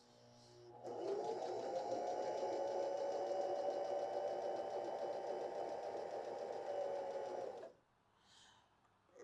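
A Baby Lock Joy BL25B sewing machine stitches a buttonhole, running in one steady, close mechanical whir for about seven seconds before stopping, with no talk.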